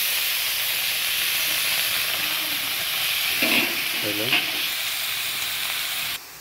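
Loud, steady sizzling and hissing from pork frying in a hot wok, with a voice briefly murmuring over it.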